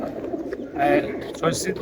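Pigeons coo at close range, low throaty calls overlapping with people talking nearby at a Bengali pigeon-racing club member's loft.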